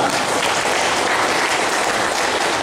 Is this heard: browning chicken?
no